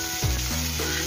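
An omelette with bitter melon fries in a pan, a steady close sizzle with a brief stirring scrape partway through and no talk.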